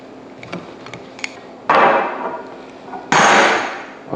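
A special C-type spanner turns the top off an industrial EXD housing, giving two loud, sustained metallic scraping bursts with a few light clicks and taps before them.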